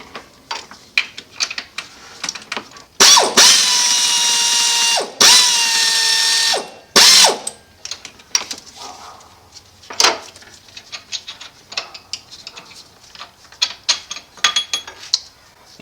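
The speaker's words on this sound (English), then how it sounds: "Crazy air tools." Air impact tools whir loudly in three bursts while removing a long bolt from a 2013 Volkswagen Golf Mk6 transmission, followed by scattered metallic clicks and clinks of bolt handling.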